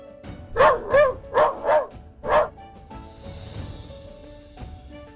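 A dog gives five quick, close barks in a row, then goes quiet, leaving faint background ambience.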